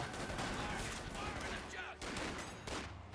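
Rapid bursts from a .50 cal machine gun in Company of Heroes 2, dense and continuous over a loud battle din, with a voice talking over the firing.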